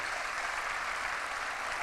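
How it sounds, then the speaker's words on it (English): Applause for faculty fills a convocation hall, a dense, steady wash of many hands clapping with no voices over it. "let's give a big round of applause to our faculty"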